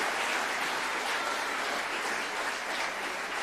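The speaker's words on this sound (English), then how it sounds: "so please give Georgia and Henry a round of applause" An audience at a college sports awards evening applauds two students, a dense steady wash of clapping from the hall that holds at an even level throughout with no clear speech.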